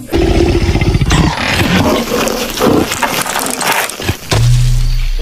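A tiger's roar from a cartoon-style animal cleaning game, loud and harsh, broken into several bursts across about five seconds and ending in a low sustained growl, with no talk over it.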